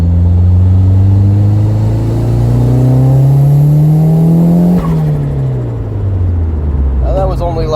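A car engine climbs steadily in pitch as it revs hard to high RPM, then lets off and the note falls away, loud and close, with a brief chirp or squeal near the end.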